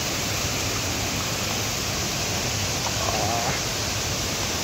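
Small waterfall at Palasdari near Karjat, a steady, dense rush of falling water that fills the whole clip, close and continuous with no talk.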